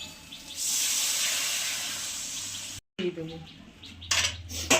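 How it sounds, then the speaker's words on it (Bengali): Water poured into sizzling masala frying in oil for a katla fish curry, a loud bright steaming hiss that surges, cuts out briefly, then returns with scraping and clinking of a pan. "এবারে জল দিয়ে দেবো"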